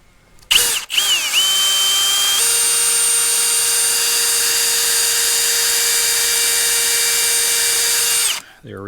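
A spade bit in a power drill bores into wood to countersink screw heads for a shed storage loft, with one loud continuous high whine that revs up, holds steady for several seconds, then cuts off.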